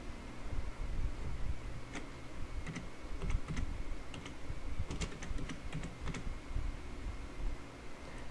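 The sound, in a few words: typing a blog title on a computer keyboard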